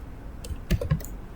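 Typing on a computer keyboard, a short burst of a few close, clear key clicks in quick succession.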